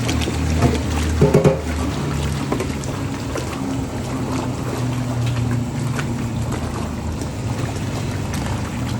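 A Hoovermatic Twin Tub Deluxe washing machine runs its auto rinse cycle, a steady watery churn and low motor hum with a few brief knocks early on.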